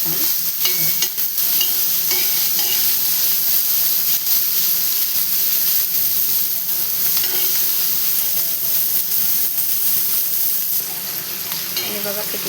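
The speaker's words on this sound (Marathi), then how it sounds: "बघा किती छान आपले कारले पण मस्त असे फ्राय झालेले आहेत" Bitter gourd (karela) fries in a pan with a steady, loud sizzle and hiss that runs unbroken throughout, with faint stirring scrapes mixed in.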